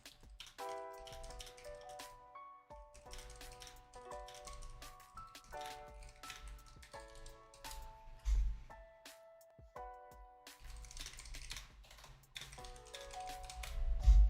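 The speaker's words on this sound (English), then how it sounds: "Keyboard ASMR, I know." Computer keyboard typing runs under music with a steady melodic backing, showing up as quiet clusters of clicks that come and go across the clip.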